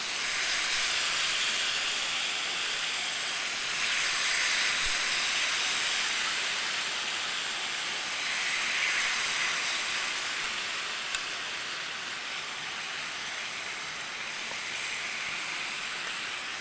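Steady, loud sizzling of tocino, Filipino cured pork, frying in a pan, a continuous bright hiss with gentle swells and no voices.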